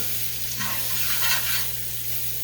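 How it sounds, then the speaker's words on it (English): Roughly a quarter cup of seasoned flour is stirred into a hot pan for pork chop mushroom gravy, giving a steady, soft sizzle with a brief swell of scraping near the middle. "That's probably a shy quarter of a cup right there of flour, seasoned flour. So I'm going to go ahead and stir that in."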